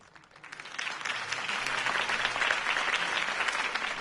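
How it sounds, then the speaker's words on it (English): Applause from a crowd after a political campaign speech in a Batman video game, rising quickly from a few claps into a steady, full round of clapping. "If only Mr. Wayne, my campaign's largest backer, could have heard that applause"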